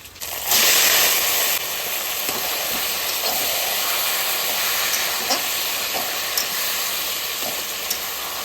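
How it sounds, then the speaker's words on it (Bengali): Hilsa fish head fried with taro greens sizzles loudly in hot oil, a sudden strong hiss as the greens go in, then steady frying with faint clinks, close and without talk. "ইলিশ মাছের মাথা ভাজা হয়ে গেছে এবার আমি কচু শাক দিয়ে দেবো"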